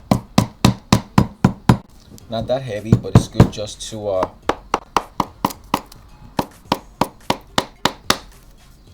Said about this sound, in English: This was an old hammer that it came off the handle.